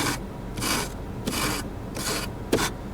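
Sharp burr on a glossy piano-black plastic trim piece of a Renault Kwid scraped by rubbing, giving five rasping strokes at a steady back-and-forth rhythm, close and moderately loud with no talk.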